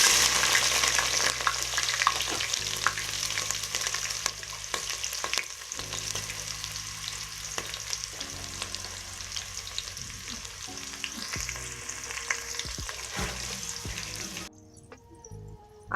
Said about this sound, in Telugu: ఆనియన్స్ ఫ్రై అయ్యేంత వరకు ఫ్రై చేసుకుందాం.